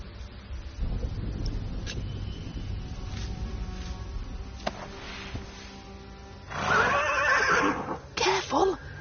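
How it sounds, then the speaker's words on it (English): A video game horse whinnies loudly near the end over a steady low rumbling ambience, with a brief snort-like burst after. "The horse nearly woke the guard."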